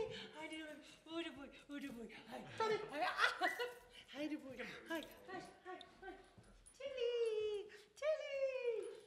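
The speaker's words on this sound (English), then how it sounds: "Release the hounds." Several dogs whimper, yip and bark in bursts close by, mixed with people laughing and cheering in a lively home setting.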